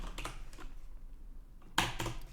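Keystrokes on a computer keyboard while writing code in Visual Studio 2019, a few scattered taps then a quick, sharper cluster near the end, close and clear over a quiet room.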